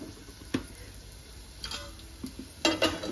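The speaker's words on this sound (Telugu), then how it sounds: "చూడండి మంచిగా ఫ్రై అయింది" Tempering for a palak methi dal crackles in a pan with a faint steady sizzle, broken by a few sharp clicks and scraping stirs, loudest near the end.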